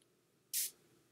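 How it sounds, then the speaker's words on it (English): A single short burst of fine mist from a spray bottle misting tarot cards, crisp and close, in an otherwise quiet room. "So we're gonna go ahead and spray the cards here."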